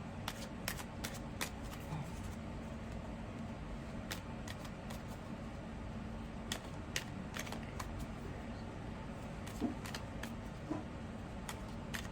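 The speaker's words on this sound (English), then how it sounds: "let me pull a couple starseed oracle cards just for some advice" Starseed oracle cards being shuffled by hand, a steady soft riffling with sharper flicks and taps scattered throughout, close up over a low room hum, with no talking.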